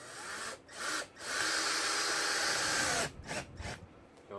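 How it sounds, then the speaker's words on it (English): A power drill drives epoxy-coated star-head screws into a wooden boat frame near the chine plates, with a steady loud whir that stops briefly twice before running continuously, then ends in short stuttering bursts. "And so now we're putting the screw in."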